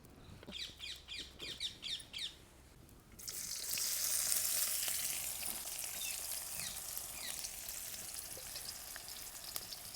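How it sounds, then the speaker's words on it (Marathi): A few bird chirps, then a sudden loud hiss as cumin seeds hit hot oil in a wok, settling into a continuous bright sizzle. "चमचाभर जिरे टाकून घेऊ"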